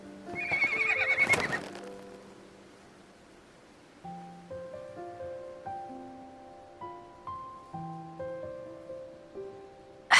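Horse in the video game Love and Deepspace gives a loud whinny, followed by a series of rhythmic clip-clopping hoofbeats over soft, sparse game music.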